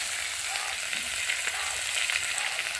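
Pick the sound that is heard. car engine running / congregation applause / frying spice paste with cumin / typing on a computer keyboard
frying spice paste with cumin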